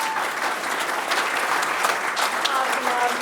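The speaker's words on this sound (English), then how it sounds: "give these guys a great round of this girl. applause" An audience at a community health talk gives a warm round of applause, continuous clapping filling the room at moderate loudness.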